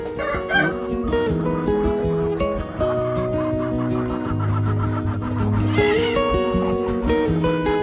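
Kadaknath chickens cluck steadily throughout with a rooster crowing among them, a dense, busy chorus on a chicken farm over a constant background hum.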